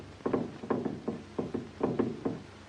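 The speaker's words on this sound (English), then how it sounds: "Is that knocking?" Muffled knocks come from beneath collapsed wreckage after an explosion, as someone trapped taps out a secret code: a steady series of about nine dull raps at an even pace, heard from a short distance through a faint background hiss.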